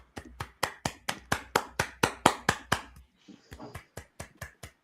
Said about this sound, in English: Just clap it up, y'all.